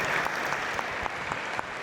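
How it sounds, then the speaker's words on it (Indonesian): A crowd at an Indonesian talk on social media use breaks into steady applause, a close, dense patter of many hands with occasional sharper claps. "Kita berikan tepuk tangan dong"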